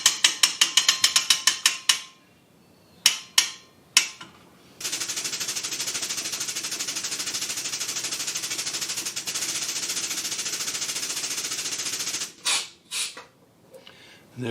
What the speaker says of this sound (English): this is where the lifting hoist makes life so much more pleasant.